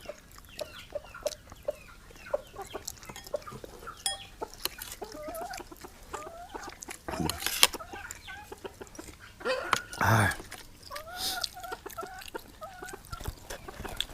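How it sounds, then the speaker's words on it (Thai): Chickens cluck softly and repeatedly around an outdoor spot, with scattered faint calls over low background noise and a couple of brief louder bursts. "ไก่มานั่งหากินเขา ไก่กินคนเดียว"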